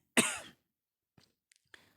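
A single sharp, loud cough bursts out near the mic, followed by a few faint throat sounds and small breaths after a pause.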